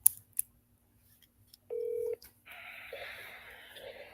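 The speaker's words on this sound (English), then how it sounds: "let's call Paula and see if she is available" A telephone dials out with a few faint key clicks and a short steady touch-tone beep, followed by a buzzing ringback tone as the call connects, fairly quiet and close.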